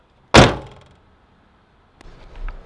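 The driver's side door of a Mazda Miata slams with one loud, close thunk and a short rattling decay, then a fainter clunk follows about a second and a half later.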